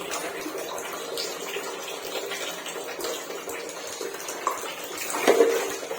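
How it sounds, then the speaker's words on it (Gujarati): Water runs from a bathtub tap at bath time, a continuous gushing splash, moderately close, with a few brief louder splashes near the end and no voices. "ટપ બંધ કરો. નળ બંધ કરજો"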